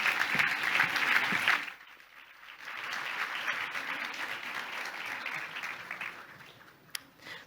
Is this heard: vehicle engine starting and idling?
no